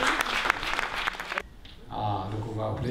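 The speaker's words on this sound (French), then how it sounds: "On peut applaudir pour une deuxième fois parce qu'elle a pris le temps de..." An audience at a regional morning event on fighting illiteracy claps steadily for about a second and a half, then the applause cuts off and a voice takes over.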